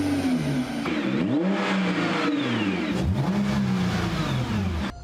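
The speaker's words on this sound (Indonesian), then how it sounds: "Let's start the engine and play the intro" A car engine starts and revs in rising and falling sweeps, loud and close, with no talking.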